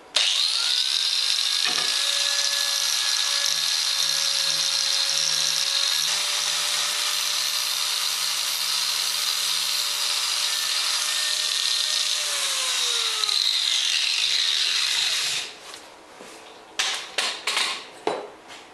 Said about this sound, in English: Clean it up with a flapper disc.